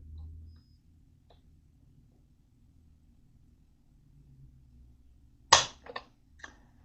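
A Kimber DS Warrior pistol's trigger is pulled against a gauge, ending in one crisp mechanical click followed by two fainter clicks, near and otherwise quiet apart from a low background hum.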